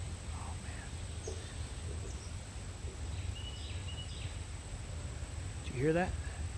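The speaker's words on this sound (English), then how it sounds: "Did you hear that? Those cool birds up there." Birds call from the trees on a morning nature walk, with several faint chirps scattered through the clip and a brighter run of rising notes near the end, all over steady outdoor background noise.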